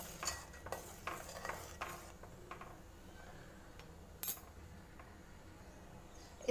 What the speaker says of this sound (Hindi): अदरक का टुकड़ा क्रश हो चुका है, हम इसमें डाल देंगे और इसे मिक्स कर लेंगे